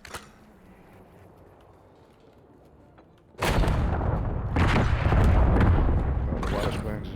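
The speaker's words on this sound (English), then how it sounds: "Flashbangs and shit out there." Flashbang grenades go off in Call of Duty: Black Ops during a hardcore search and destroy match. After a few quiet seconds, one sudden loud blast rings out, followed by a continuing rumble and further booming bursts.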